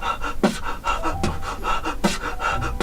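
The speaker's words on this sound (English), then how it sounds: "So it's just Yeah. breathing in and out" Rhythmic, audible beatbox breathing in and out, close to the listener, repeating at a steady quick pace with no speech.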